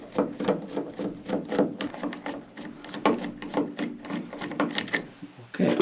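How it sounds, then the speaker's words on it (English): Repeated short squeaky turning strokes of a screwdriver backing Phillips screws out of a wall light switch, a steady close rhythm of scraping clicks with no talking. "So we're going to remove these Phillips screws."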